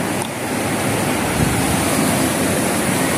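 Water pours onto stones at a cave-like site in southern Spain, a loud, steady rushing splash heard close up and alone, without pause.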